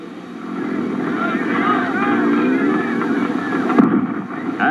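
Motorcycle engines fire up at a Le Mans–style start of a 1960s cross-country motorcycle championship, a rough, wavering roar from several bikes at once, with a commentator's voice over the din.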